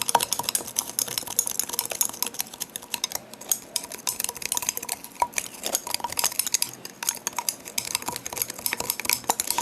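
Rapid, dense clicking and clinking as black cat protection oil is stirred, small taps against a container coming in quick irregular bursts throughout, close and fairly loud with no voices.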